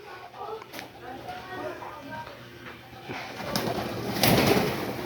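Young pigeons coo softly and repeatedly at close range. A person talks and there is some rustling, and a louder burst of activity comes near the end.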